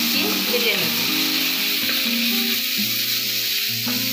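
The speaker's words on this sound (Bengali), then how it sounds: "এবার এটাকে আমি দিয়ে দেবো এটায় এবং ভালো করে মিশিয়ে ভেজে নেব" Chopped tomatoes frying in a pan and being stirred in for an egg tadka, a steady loud sizzle running throughout under a tonal background with faint scraping.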